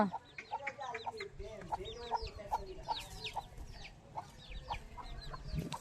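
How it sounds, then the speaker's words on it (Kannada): Chicks peep in rapid high chirps while hens cluck nearby, a busy repeated chatter that runs throughout, at a wedding turmeric ceremony. "ಕೋಳಿ ಮರಿಗಳು ಎಷ್ಟು ಶುದ್ಧಾಗವು ನೋಡು"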